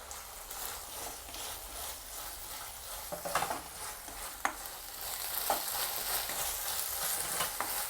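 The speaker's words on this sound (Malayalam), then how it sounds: "ഞാൻ ഇതിലേക്ക് 3 പച്ചമുളക് ചെറുതായിട്ട് മുറിച്ച് വെച്ചത് ചേർക്കുന്നുണ്ട്." Chopped green chillies fry in a pan of chilli chicken gravy, giving a steady, close hiss of sizzling oil with occasional stirring scrapes and a louder crackle toward the end.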